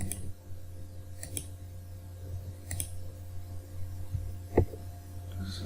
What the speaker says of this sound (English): Control click.